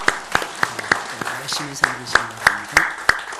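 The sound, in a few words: church congregation applause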